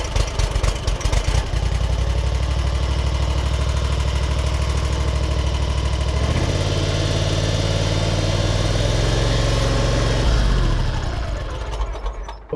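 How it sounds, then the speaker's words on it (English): A Big Dog Diablo 60-inch zero-turn mower engine idles loud and close, a steady low rumble that shifts pitch twice as the throttle is brought down, then fades at the end. "So we're gonna go ahead and start this up."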